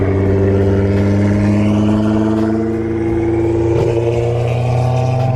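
A loud Nissan GT-R engine drones steadily at high revs, its turbo whine holding a sustained pitch throughout with no voices.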